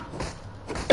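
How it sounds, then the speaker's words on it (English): A single short cough bursts out near the end of a quiet second, close and fairly loud after faint background noise, from a gamer getting over a viral illness. "I'm going to cough from time to time because I'm just getting over some sort of viral thing"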